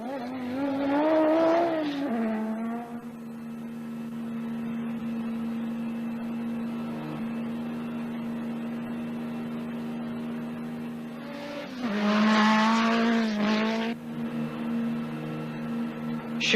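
Rally cars from the 1987 Dakar Rally's open category, such as a twin-engine Golf, an Audi Quattro and a Lancia Delta S4, drone past, with a long steady engine hum between two louder, revving, close passes.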